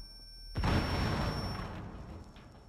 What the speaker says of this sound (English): and a grenade.